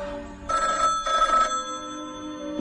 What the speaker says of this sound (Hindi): नंदिनी का फोन उठाता कौन है?